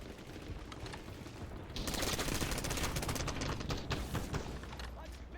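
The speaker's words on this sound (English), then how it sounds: "Ah, I'm getting shot from the sides" Sustained rapid gunfire in the video game BattleBit, a dense fusillade of overlapping shots that grows louder partway through and continues for several seconds.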